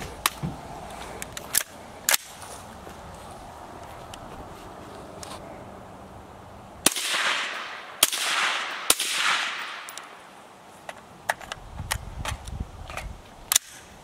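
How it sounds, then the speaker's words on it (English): Three suppressed rifle shots through a Rugged Radiant suppressor fired outdoors, each a sharp loud crack followed by a brief rushing tail, spaced about a second apart amid faint scattered clicks. "All right, we got the rugged Radiant. We're gonna do 3 rounds suppressed."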